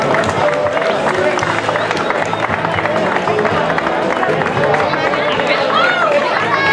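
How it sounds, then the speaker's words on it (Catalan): Crowd at the Canals festival cycling race claps for a rider amid busy chatter, producing a steady, dense wash of clapping and voices. "Un altre aplaudiment."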